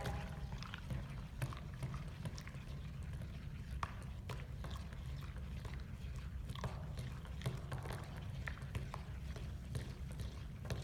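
Foam is stirred around in a container of water for a homemade hurricane model, giving continuous quiet sloshing and scattered small clicks and splashes close by.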